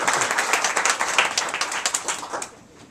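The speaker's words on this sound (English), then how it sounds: "let's have a round of applause." Applause from an audience at an art club gathering honoring an absent artist, a burst of scattered clapping that fades out toward the end, with no talk over it.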